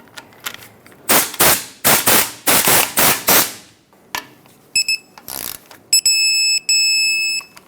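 A torque wrench tightens a tie rod clamp bolt on a 2008-2010 Ford F250 Super Duty. Close, sharp ratcheting bursts repeat several times, then clear electronic beeping tones sound.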